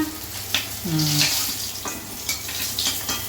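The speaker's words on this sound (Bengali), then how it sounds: "প্রথমে একটু জিরে ফোড়ন দিয়ে দিলাম" Cumin seeds sizzle in hot oil as a tempering for a cauliflower and rohu fish dish, a steady close crackle with stirring scrapes and a faint clink of the pan.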